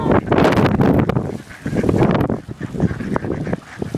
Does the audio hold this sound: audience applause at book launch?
no